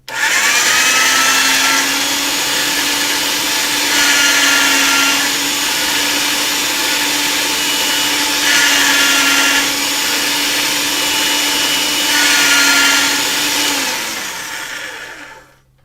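Motor-driven jewelry rolling mill flattening metal for a pendant, a loud steady mechanical whine and hum running continuously for about fourteen seconds with slight swells, then winding down at the end.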